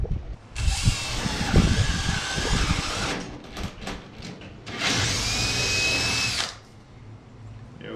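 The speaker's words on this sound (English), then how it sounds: "we're just gonna drill a hole in each corner" A power drill whines in two steady bursts, each a few seconds long, drilling corner holes for a dog door, with brief handling clatter between them, close and fairly loud.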